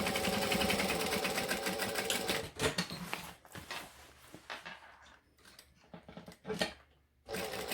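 A sewing machine top stitches a bag, running in a fast steady whir at first, then breaking into shorter bursts and stops for back stitching, close and fairly quiet with no talk.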